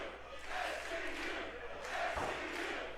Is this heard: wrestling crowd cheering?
yes